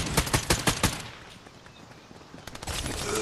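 Gunfire in Fortnite: a quick cluster of close shots, then quieter scattered reports fading into background noise, and a few more shots toward the end.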